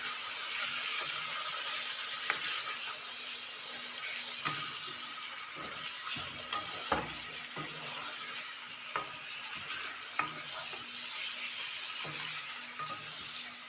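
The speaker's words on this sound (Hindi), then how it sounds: "चिकन ऑयल में शामिल कर देते हैं" Chicken frying in hot oil in a pan for a chicken salan, a soft, steady sizzle with scattered small pops and crackles, faint and continuous, with no talking.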